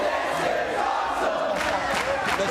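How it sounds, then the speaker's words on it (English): Wrestling crowd at a TNA triple threat match, a loud, steady roar of cheering and chanting filling the arena throughout, with swelling bursts of noise near the end. "Listen to the crowd."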